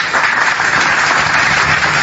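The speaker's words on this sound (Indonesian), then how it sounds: "Betul, tepuk tangan kalau gitu" Dense audience applause at a religious talk, a loud, steady wash of many hands clapping together without a break for the full two seconds.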